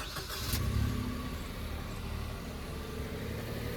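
A car engine runs steadily as the vehicle is pulled over to the side of the road. A low rumble continues throughout, with a brief louder surge near the start.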